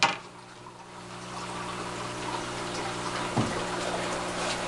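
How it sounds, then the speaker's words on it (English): An aquaponics pump lifts water from a tank up into a grow bed, giving a steady, continuous flow and pump hum at close range with no speech, plus one brief splashy bump partway through. "There's a pump in this tank that pumps the water up from down here"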